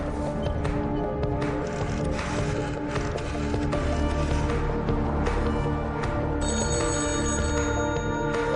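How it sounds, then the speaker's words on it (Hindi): A telephone in a cabin rings on and on, a steady, loud electronic trill layered with a background music score, with no voices. "अकबर के केबिन का फोन लगातार बज रहा है।"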